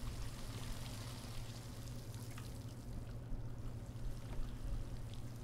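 Water pouring steadily in a video game as something fills up, a continuous low rushing stream with faint splashy detail, no talk, holding an even level throughout.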